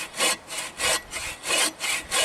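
A log is sawn by hand outdoors on a remote Canadian island, with five even rasping strokes of wood-cutting noise, each rising and falling in a steady back-and-forth rhythm.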